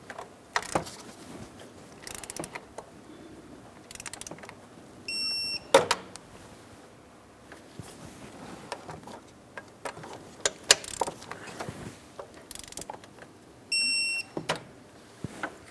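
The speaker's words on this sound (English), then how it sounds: "snug them up and then torque them to 40 foot-pounds" Alternator mounting bolts on a 2008-2016 Chrysler Town & Country 3.8L V6 are snugged with a ratchet, giving short bursts of clicking and metallic clinks spread across a quiet engine bay, with two brief electronic beeps.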